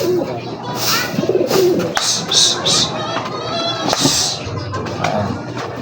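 Pigeons coo and rustle in a loft, the soft repeated calls close and fairly loud, mixed with bird chatter while a person talks over them.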